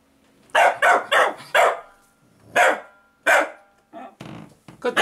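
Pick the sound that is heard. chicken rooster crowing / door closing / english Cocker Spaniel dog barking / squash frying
english Cocker Spaniel dog barking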